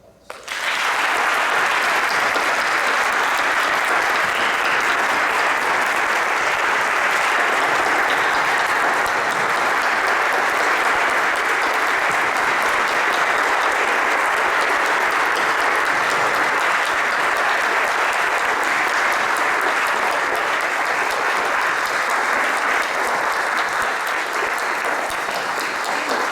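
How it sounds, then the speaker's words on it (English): Audience at a school's 30th anniversary reunion breaks into steady, loud applause that fills the room for almost half a minute, sustained at one level with no pause and no voices on top. "Let's give them a round of applause."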